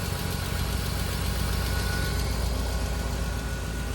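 A BMW E46 wagon engine idles steadily after long storage, a continuous low rumble with a faint rhythmic tick running through it, close and alone with no talk.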